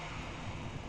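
An airplane touching down in a video game with a strong head-on wind, a dense continuous engine and wind roar, loud and steady through the full second with no voices.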